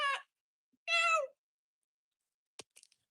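A cat named Chair Cat gives two clear, close meows, a short one and then a longer one. A few faint clicks follow in otherwise quiet surroundings.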